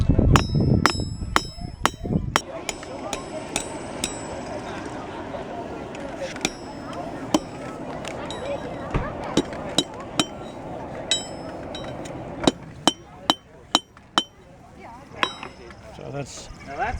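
A blacksmith at an 18th-century market fair hammers a scarf joint on iron, ringing metallic strikes spaced irregularly then clustering into quicker blows, moderately close over a murmuring outdoor crowd.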